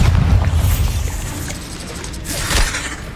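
A Bombarda explosion spell is cast in Hogwarts Legacy, producing dense, loud rumbling game audio with a heavy low-end boom, a swelling burst of crackle near the end, and no talking.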